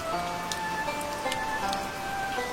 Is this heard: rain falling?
yes